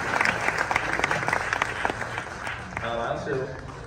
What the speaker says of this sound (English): how about one more round of applause for the select choir and concert choir